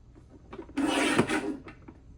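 A paper trimmer blade slides across scrapbook paper in one steady rasping stroke lasting under a second, close and fairly loud, with a few soft handling taps before and after.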